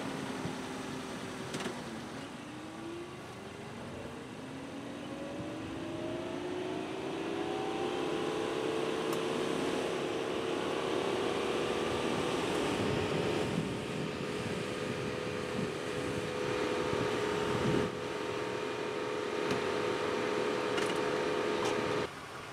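A car drives onto Rhino heavy-duty car ramps (16,000 lb rating), its engine hum rising steadily in pitch as it creeps up, a continuous moderate drone with faint clicks and no talk.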